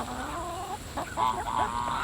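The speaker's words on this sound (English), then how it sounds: "The chickens. Look at this." Chickens on a small pasture market garden cluck and murmur softly nearby, a few drawn-out calls followed by quicker clucks, with no talking.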